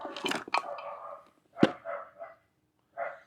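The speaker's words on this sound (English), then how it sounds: "got my dogs going crazy over there" Several dogs bark in sharp, scattered bursts, a few rapid barks at first, then isolated ones after short pauses, moderately loud and somewhat distant, with no talking.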